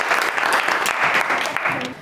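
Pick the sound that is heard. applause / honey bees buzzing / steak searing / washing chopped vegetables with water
applause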